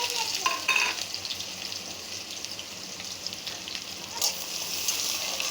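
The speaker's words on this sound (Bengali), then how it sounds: "পেঁয়াজটা একটু ভেজে নেব।" Chopped onion frying in mustard oil with a little black cumin, a steady broad sizzle with a few scraping stirs near the start and another around four seconds, faint and continuous with no talking.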